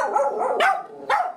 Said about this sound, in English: it's back to barking